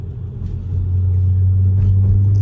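Supercharged Audi car rumbles over road bumps from inside the cabin, a deep steady drone that swells louder after the first second and holds, with faint knocks and no talking.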